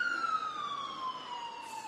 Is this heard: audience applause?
no